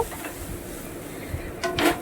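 Boiled Maggi noodles fry in a pan, with soft sizzling and a few short scraping and clinking stirring strokes, close up with no talking.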